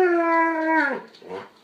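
A dog gives a loud, close, sustained howl that bends downward and breaks into short whimpering yips. It is heard alone.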